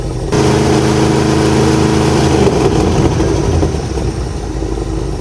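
Drag race car engine running steadily at high idle, loud and close, with a constant low rumble for several seconds that eases slightly near the end, with no talk.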